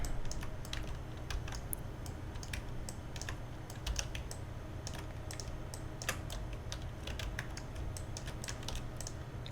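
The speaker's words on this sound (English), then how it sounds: "Type in a picnic table." Rapid, continuous typing on a computer keyboard while using a Far Cry 5 arcade map editor, with crisp irregular keystrokes close up and no talking.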